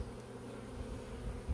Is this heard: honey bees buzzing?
yes